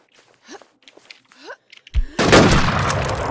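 Gunfire erupts in the online shooter NewZ Infestation, a dense, loud burst of rapid shots that follows scattered voices and small thuds and then keeps going.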